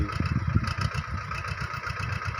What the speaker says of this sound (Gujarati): પણ નિંદામણ હોવાથી મિની ટ્રેક્ટરનો ઉપયોગ કરવા માટે બેથડી ગામના પ્રજાપતિભાઈ છે